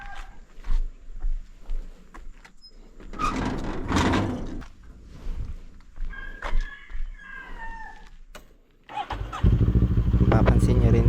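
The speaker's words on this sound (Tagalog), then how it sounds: "Papansin nyo rin dito pagka start ko ng motor" A motorcycle engine starts and settles into a loud, steady idle nearby, after assorted clicks, knocks and handling noises.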